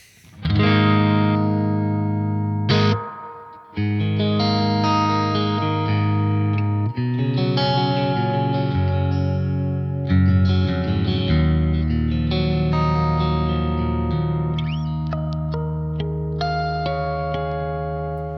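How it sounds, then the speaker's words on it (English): A distorted electric guitar with reverb turned up on a BOSS RE-202 rings out sustained chords and notes with lingering, washy tails between changes, loud and spacious with no talking. "Let's turn up the reverb, have a listen."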